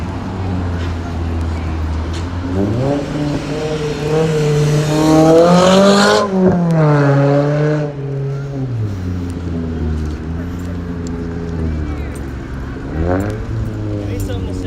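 Street traffic on Constitution Avenue in Washington, D.C. rumbles nearby as engines rise and fall in pitch while vehicles accelerate past, with the noise of a large crowd underneath.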